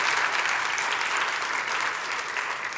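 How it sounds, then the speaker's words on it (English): Sustained, dense applause from an audience at the 2021 Hall of Fame and Brendan Hayes Awards ceremony, steady and fairly loud throughout with no talking over it. "please join me in another round of applause"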